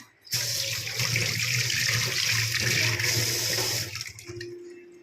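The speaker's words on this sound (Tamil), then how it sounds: "கையை வாஷ் பண்ணிக்கிறேன்." A tap runs steadily into a kitchen sink while hands are washed under it, a loud, close rush of water that cuts off near the end.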